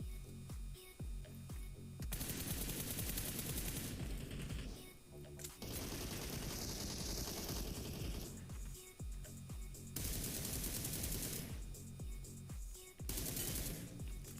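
Rapid automatic gunfire from a mobile shooter game, with sustained bursts of fire broken by short pauses and occasional voices underneath.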